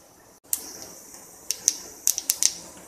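Mustard seeds and sesame seeds crackle in three to four tablespoons of hot oil in a pan, giving sharp, sparse pops that come closer together toward the end over a faint sizzling hiss.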